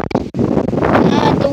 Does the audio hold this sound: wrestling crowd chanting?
no